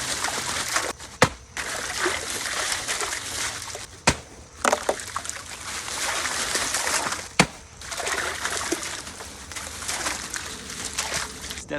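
Ice from bags tumbles into a big tub of cold water for an ice bath, with splashing, trickling and several sharp clunks and knocks of ice striking the tub, heard close.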